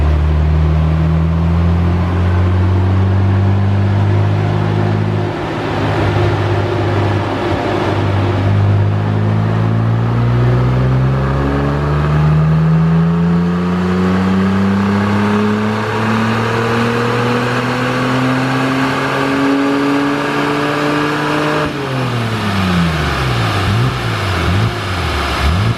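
A high-mileage Saab 9-3 Turbo X strains on a dyno, its engine tone rising steadily through a long, loud pull before cutting sharply and winding down near the end.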